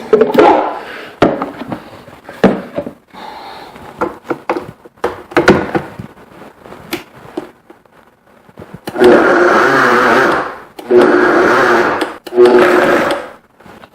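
A blender pulses cassava tortilla dough with salt and shortening in short whirring bursts, first choppy and uneven, then three longer loud runs near the end, with no talking.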